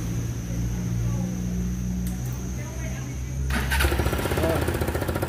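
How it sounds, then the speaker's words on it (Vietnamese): A car engine is started during a battery charging-current check. A low, steady hum and voices precede a sudden start, then a loud, pulsing idle. "nổ máy lên rồi tôi mới tháo."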